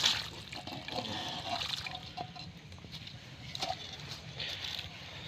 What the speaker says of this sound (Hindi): पानी जो है ना नीचे छन छन के जा रहा है और ओजड़ी इसके अंदर बच जाएगी